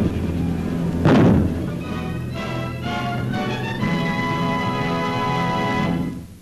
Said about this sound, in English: weapon, firing at the rate of 45 rounds a minute, is designed to operate against aircraft flying at speeds of up to 900 miles an hour